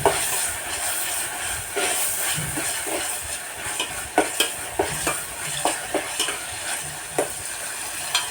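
Tomatoes, onion, turmeric and salt cooking in a pan, a continuous soft sizzle with repeated metallic stirring scrapes and clinks, rhythmic in the second half, close and without talk.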